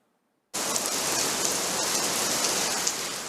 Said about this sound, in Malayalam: കാലവർഷം കനക്കുന്നു